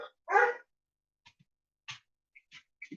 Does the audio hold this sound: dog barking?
yes